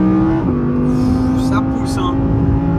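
A modified 634 hp Audi R8 accelerates with a steady, loud engine drone that climbs briefly and then holds, while a person talks over it.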